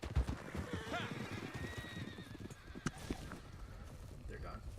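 In Red Dead Redemption 2, a horse whinnies over quick clip-clopping hooves on the ground, fairly faint and busy, with a voice speaking briefly over the game sounds.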